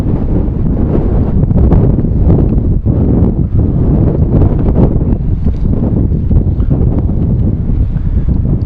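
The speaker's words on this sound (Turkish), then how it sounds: "Biraz rüzgar var." Loud, continuous wind buffeting the microphone at a high spot in Didim, Turkey, a rumbling roar that persists throughout with no other clear sounds.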